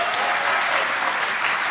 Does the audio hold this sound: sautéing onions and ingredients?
no